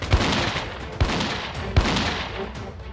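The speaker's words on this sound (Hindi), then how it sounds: "सरेंडर की अपील अनसुनी कर आतंकी फायरिंग करने लगे।" Gunfire during an encounter with militants in Kashmir: three sharp, loud shots crack at roughly even intervals over a dense, rumbling background of continuous firing, with no voices.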